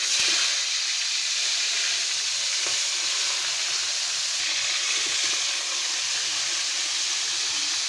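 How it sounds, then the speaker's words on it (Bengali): Koi fish coated in salt and turmeric frying in hot oil, a steady, even sizzle and hiss throughout, close and moderately loud, with faint pops and occasional stirring clicks. "মাছটা আমার এদিকে বাজা দিতে থাক"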